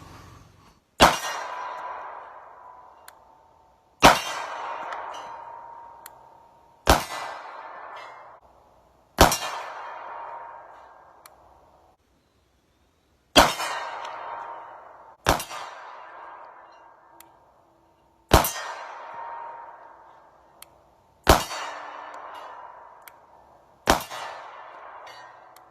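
A pistol fitted with a Holosun 407K red dot being zeroed: about nine sharp, loud shots fired a few seconds apart, each followed by a long metallic ringing that fades away.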